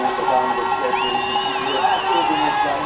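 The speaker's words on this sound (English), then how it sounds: "Listen to the crowd urging her down the hill." A crowd at a Paralympic women's standing giant slalom in Vancouver roars steadily as a skier comes down the hill, a dense, continuous cheering wash with whistles rising over it, loud and sustained.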